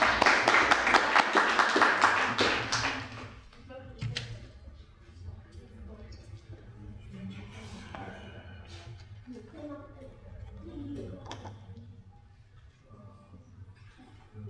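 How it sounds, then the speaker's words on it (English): An audience at a 1998 poetry reading in Bayview applauds with dense, lively clapping for about three seconds. It fades into scattered claps and room murmur as a speaker begins talking. "let's give him another great round of applause."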